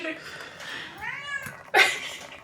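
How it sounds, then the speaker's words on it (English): A cat meows several times near a person filleting freshly caught surf fish, rising and falling cries with one louder, sharper yowl toward the end, while someone talks. "It's a cat."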